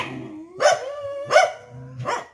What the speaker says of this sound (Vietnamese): Đó thì đàn cún đang mừng rỡ, rất là mừng rỡ, đang quẩy đuôi lê lẹ.